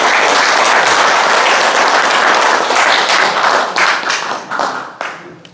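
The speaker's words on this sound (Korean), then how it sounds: "우리 용혜인 대표님께 큰 박수 한번 보내주셨습니다" An audience at a rural basic-income legislative meeting in an agricultural technology center applauds Yong Hye-in: loud, close crowd clapping that holds strong, then thins into scattered individual claps as it dies away.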